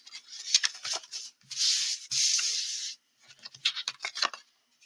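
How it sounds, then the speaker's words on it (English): Tarot cards are shuffled close up, giving dry rubbing and riffling sounds in short bursts, with two longer sliding sweeps in the middle and brief pauses between. "she's going to do a little bit more shuffling"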